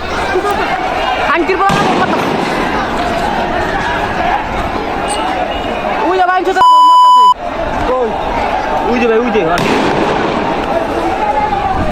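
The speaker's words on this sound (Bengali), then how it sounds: "তারপর একটু ভালো করে দেখেন কিভাবে গুলি মারে।" Gunfire directed at protesting students cracks out in sharp bursts over a loud, dense crowd roar with chatter, and a brief steady beep cuts in midway.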